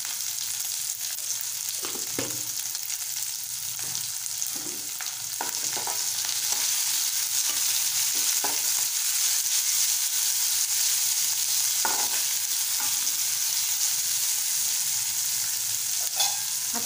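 Spicy soya chunks with salt sautéing in a pan for Malvani-style soyabean chilli, a dense, steady sizzle with intermittent spatula scrapes and taps, close and even, with no voices.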